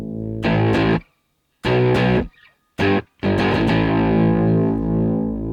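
Electric guitar through a Scirocco distortion pedal with tone color set high and slope at maximum: two loud, buzzy, heavily distorted chord stabs, a short hit, then a sustained gritty chord ringing on, with no voice.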